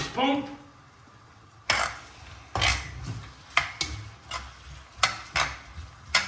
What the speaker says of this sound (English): I'm gonna mix them well with our spoon.